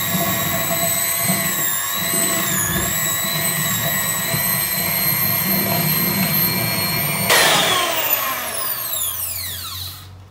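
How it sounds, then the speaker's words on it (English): An electric mixer whirs steadily while creaming butter for a patisserie bake, a close, constant motor whine that wavers slightly, then rises briefly before spinning down to a stop. "And then let's get our mixer going"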